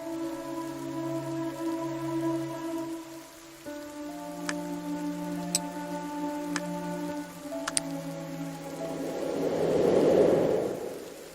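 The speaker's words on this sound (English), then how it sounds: "Has the rain stopped?" Rain falls in a mystery detective adventure video game as a soft, steady patter under sustained musical tones, swelling into a denser wash of drops near the end.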